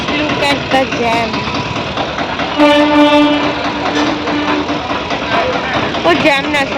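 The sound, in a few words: train arriving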